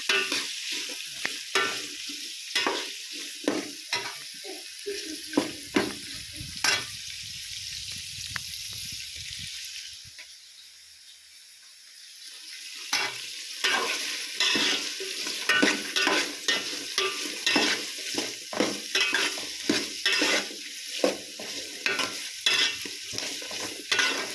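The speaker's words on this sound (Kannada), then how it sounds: "ಈರುಳ್ಳಿನೂ ಅಷ್ಟೇ ಬ್ರೌನಿಷ್ ಕಲರ್ ಬರೋವರೆಗೂ ಚೆನ್ನಾಗಿ ಫ್ರೈ ಮಾಡ್ಕೋಬೇಕು" Onions frying in a pan and being stirred, with steady sizzling and repeated scraping strokes of a utensil, a short quieter pause midway, then continued stirring close up.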